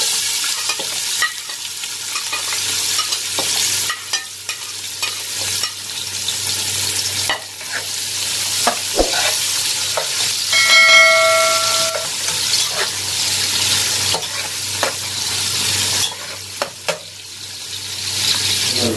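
Two chopped onions fry in a pan with coriander powder for a keema aloo mutton mince dish, a loud continuous sizzle with stirring scrapes close up and no voices.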